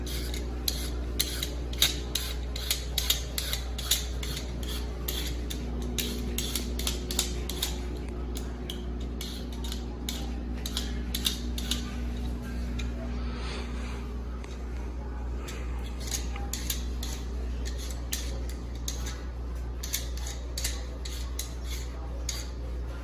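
A potato is peeled while held and turned on a fork, giving steady scraping and clicking of metal against the skin, light and close, with a low hum running underneath.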